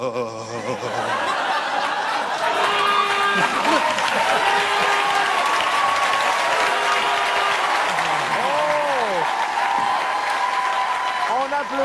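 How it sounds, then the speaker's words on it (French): A crowd applauds the four improvisers at the close of an improv comedy night, sustained loud clapping mixed with laughter and cheering, while voices talk over it throughout. "On applaudit"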